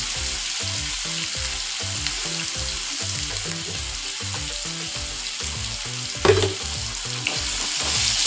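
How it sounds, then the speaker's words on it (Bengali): Potatoes seasoned with salt and turmeric fry in hot oil in a pan, giving a steady close sizzle with regular stirring scrapes and one sharper clatter near the end, no talking. "আলুকে একটু লবণ দিয়ে দেবো আর অল্প হলুদ দিয়ে দেবো আলুটাকে ভালোভাবে ফ্রাই করে নিতে হবে"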